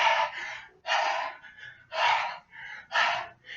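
Rapid hyperventilation breathing done as a spiritual training exercise, heard as four strong, harsh breaths in a steady rhythm, each about a second long with short pauses between, close and clear with no talk.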